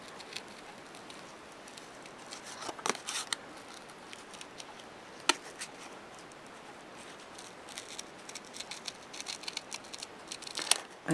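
Scissors trimming patterned paper for a Graphic 45 Olde Curiosity Shoppe mini album: intermittent crisp snips and light paper rustling, close and moderately quiet, with no talking.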